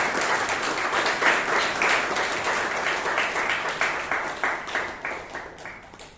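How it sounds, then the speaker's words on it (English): An audience at a Toastmasters club meeting in Bangalore gives a sustained round of applause, dense steady clapping from many hands that holds evenly throughout with no talking over it. "please give them both a big round of applause"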